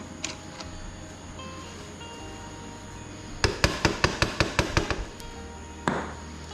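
Metal tapping on the front axle of a Honda three-wheeler, about ten sharp, evenly spaced hammer blows in quick succession, close and clear, followed by a single later strike.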